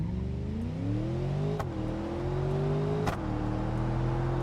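An old Mercedes in sport mode accelerates hard from a standstill, the engine note climbing steadily through the revs, broken by two sharp gear shifts before rising again, loud and close.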